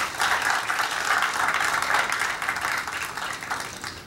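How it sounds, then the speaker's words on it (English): Steady applause fills a commencement ceremony, a dense crowd clapping continuously at even loudness throughout, with no voices standing out. "Graduates, let's first give your families, faculty, administration a round of applause for being by your side"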